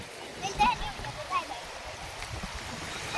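Water flowing at Jamjir waterfall, a soft continuous rushing with a couple of gurgling splashes, fairly faint, while a voice speaks over it.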